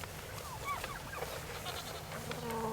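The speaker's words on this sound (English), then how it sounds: "The goats will try and get into it. Yeah, they're just nosy. They're typical goats." Goats on a farm bleating in several short wavering calls, moderately near, over a steady low background rumble and outdoor noise, with no clear talk.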